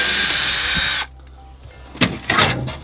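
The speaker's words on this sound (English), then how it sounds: "I'm going to remove the screws first." Cordless drill backing screws out of a bathroom trim piece in an RV, a steady close whirring spin that stops abruptly, followed by a couple of short clicks and handling knocks.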